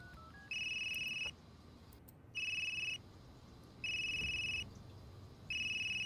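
A telephone rings in repeated electronic bursts, four rings spaced by short pauses, clear and fairly close against a quiet room in a crime drama set in an asylum.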